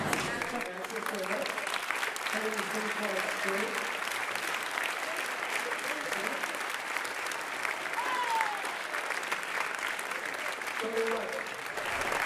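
Audience applause for a senior, Axel Anderson, at the Hudson High School May band concert, a dense, steady clapping that fills the room and continues evenly for the whole stretch, with faint voices underneath.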